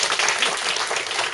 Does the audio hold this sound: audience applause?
yes